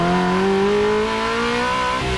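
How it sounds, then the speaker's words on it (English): A Ferrari Challenge Stradale engine revs hard and close, its pitch climbing steadily through a loud, continuous two-second burst before easing slightly at the end. "The Challenge Stradale seen here was an incredible track weapon, balanced, raw, and with that noise."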